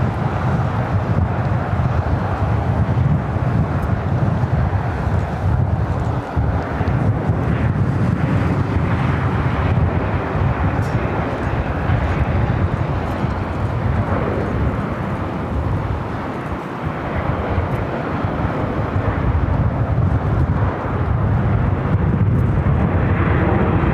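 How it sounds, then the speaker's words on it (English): A cargo aircraft taxis toward a takeoff at LAX in extreme winds. Its deep, steady jet rumble blends with strong wind noise throughout, loud and continuous, with no talking. "Cargo, I believe, heading up for a north-sided takeoff on 6 right."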